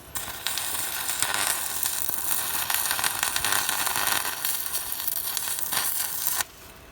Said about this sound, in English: let's try now to weld on the frame and see how it goes.